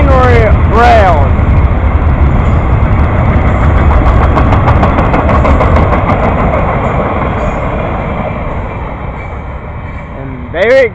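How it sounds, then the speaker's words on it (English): A freight train hauling a load of rails rumbles steadily past at close range, wheels clattering and metal ringing over a low engine drone, slowly easing toward the end; brief voice bursts occur at the start and finish. "the rail train carrying train rails"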